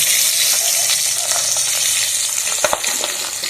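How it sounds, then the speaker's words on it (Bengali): Katla fish heads fry in hot oil until reddish, giving a dense, steady sizzle with light crackling and a brief spatter near the end, close and fairly loud. "আর আমি এদিকে মাছের মাথাটা ভাজছি"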